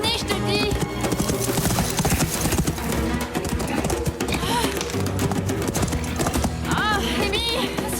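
Horse hooves clip-clop steadily under a busy scene, with a horse whinnying now and then and birds chirping, while people talk over much of it.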